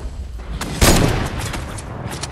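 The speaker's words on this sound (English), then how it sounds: "there's somebody else shooting me from back there" Bursts of rapid gunfire in the Fortnite video game, a loud close volley with a heavy impact, then continued shooting trailing off over steady game noise.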